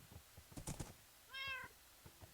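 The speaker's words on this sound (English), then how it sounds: "That sounded like a cat." A cat meows once in Minecraft, a short high, clear mew in the middle, surrounded by faint clicking and keyboard tapping.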